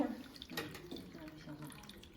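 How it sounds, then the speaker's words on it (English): Water being poured into a diode laser hair removal machine, a soft gurgling trickle with faint splashes, quiet and brief. "So we can show you how to pour water now."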